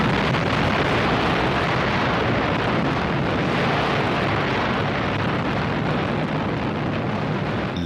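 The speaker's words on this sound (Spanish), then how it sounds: "Explota unos 40 segundos más tarde, a 600 metros por encima de Hiroshima." A nuclear explosion over Hiroshima, the atomic bomb detonating about 600 metres above the city, rendered as a sustained, loud, dense roaring blast that rumbles without letup.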